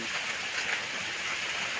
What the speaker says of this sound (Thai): นำบรรยากาศฝน ตก มาฝากเพื่อนๆชาวกรุงที่